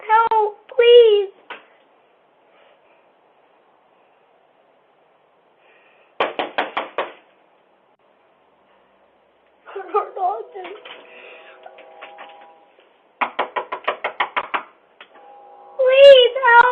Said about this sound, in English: As she keeps knocking on the door and begging for help